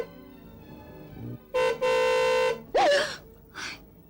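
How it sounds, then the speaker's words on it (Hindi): Two long car horn blasts close by, then a short higher honk and a brief final toot. "ये तो मिस्टर बजाज की गाड़ी का हॉर्न लगता है।"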